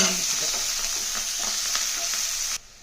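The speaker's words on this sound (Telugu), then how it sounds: "ఇప్పుడు ఉల్లిపాయలు పచ్చిమిరపకాయలు వేసి ఇది కూడా లైట్ గోల్డెన్ బ్రౌన్ వచ్చిన దాకా" Onions and green chillies fry in a hot pan for a curry with brinjal and cashews, a steady close sizzle with scattered stirring scrapes, cutting off abruptly just before the end.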